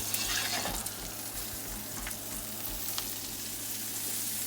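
Pork and Brussels sprouts fry with sage in browning, burning butter in a pan, giving a steady close sizzle with faint crackles and pops throughout.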